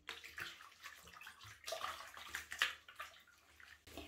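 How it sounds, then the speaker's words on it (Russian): A goat-down knitted garment is gently rinsed by hand in slightly warm water in a basin, giving soft, close sloshing and splashing with faint dripping, quiet overall and with no talking. "Теперь я буду выполаскивать свое изделие."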